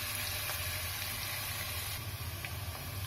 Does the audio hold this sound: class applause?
no